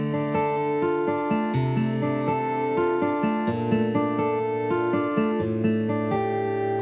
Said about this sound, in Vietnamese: Tiếp theo đó là tiếng guitar điện để các bạn có thể rải các cái câu đệm ở trong.